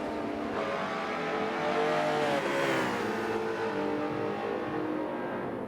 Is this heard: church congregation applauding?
no